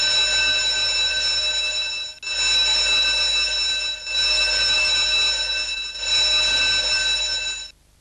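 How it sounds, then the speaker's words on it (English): A building's emergency intermittent alarm bell rings loud and close in steady bursts of about two seconds each, separated by brief gaps, with no voices present. "If you hear an intermittent bell,"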